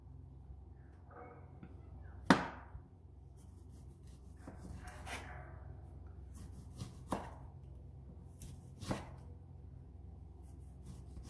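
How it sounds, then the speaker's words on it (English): A knife slicing tomatoes on a board, with a few distinct, well-spaced cuts and faint rubbing and scraping between them, close and quiet. "we're gonna go ahead and slice the tomatoes."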